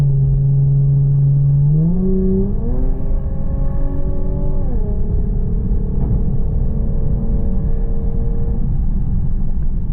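Loud Lexus engine pulls hard through a turn, droning steadily as its pitch climbs in smooth steps and then levels off into a sustained roar over constant road rumble, with no voices.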